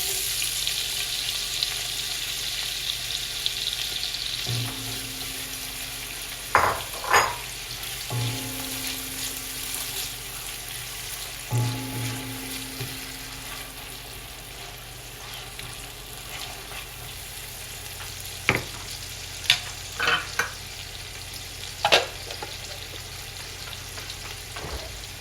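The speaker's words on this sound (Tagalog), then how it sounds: "Hayaan lang po natin na ma-melt ng konti ang ating butter at maluto ang onion natin." White onion fries in melted butter in a pan with a constant soft, hissing sizzle, broken by occasional clicks and light knocks of a utensil, along with a faint background hum.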